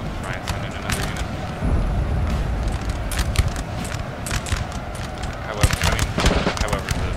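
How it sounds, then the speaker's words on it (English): Musket volleys in a Napoleon Total War battle, ragged crackling gunfire popping in scattered bursts over a rumbling battlefield din, with voices talking in the mix. "However, the gunshots will be helping it a lot."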